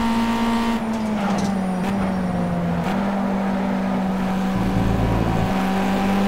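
A race car engine in the racing game Project Cars drones loudly and steadily throughout, its pitch dipping and rising slightly as the car works through a lap.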